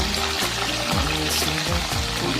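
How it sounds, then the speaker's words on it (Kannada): Potato paneer sticks deep frying in hot oil, giving a steady, loud, continuous sizzle and bubbling crackle throughout, with no voices. "ಬನ್ನಿ ಇವಾಗ ಅದನ್ನ ಆಯಿಲ್ ಅಲ್ಲಿ ಡೀಪ್ ಫ್ರೈ ಮಾಡ್ಕೊಳ್ಳೋಣ."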